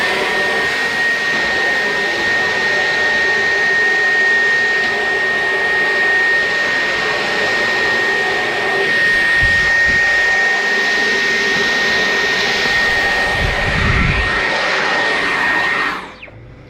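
A Dyson V11 cordless stick vacuum cleaner runs close and loud with a steady high-pitched motor whine and rushing airflow, with a few brief bumps along the way, before powering down at the end.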